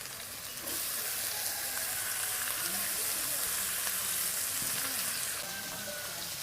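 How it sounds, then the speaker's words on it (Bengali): Ridge gourd peels fry in oil in a village kitchen, a dense, even hiss of sizzling that swells and holds steady before easing slightly near the end, heard alone. "এবার আমি ঝিঙের খোসাগুলো দিয়ে আবার ভেজে নেব।"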